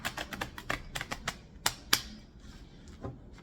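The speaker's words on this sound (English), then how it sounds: "let's go ahead and shuffle one more time" A deck of cards being shuffled at close range, with a quick run of crisp, snapping riffles that slows into a few sharper flicks and then fades to scattered light taps.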